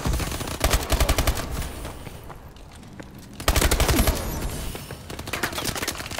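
Rapid automatic gunfire from a first-person shooter game, with loud dense bursts near the start and again after a short lull, then more sustained rattling shots.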